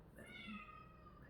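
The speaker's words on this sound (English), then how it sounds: "That's the cats in the bedroom" Cats in a bedroom give a faint, drawn-out meow with a slight wavering pitch, heard at a distance through steady low room noise with no one talking.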